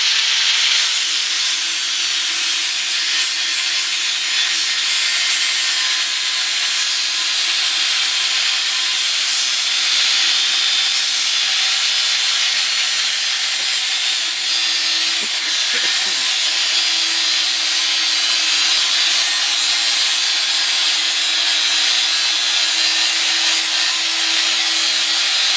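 Angle grinder grinding down metal pieces ahead of MIG welding, a loud, steady high-pitched whine that runs unbroken throughout, with a brief lower rumble midway and faint talk underneath.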